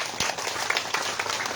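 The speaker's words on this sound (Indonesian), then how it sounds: "Tepuk tangan dulu." Brief burst of crowd clapping at a political campaign rally for regency head and deputy candidates, a dense patter of hands that holds steady for under two seconds with no clear voice over it.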